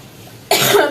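A single sharp, loud cough bursts out after a quiet moment from someone in a household where everyone has a cold, and it carries on with a rough, breathy tail.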